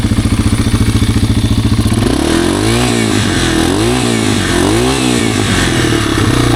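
A worn, cheaply bought Yamaha TW200 motorcycle runs close by, starting with a rapid even single-cylinder putter, then revving up and down in several rising and falling surges, loud and alone.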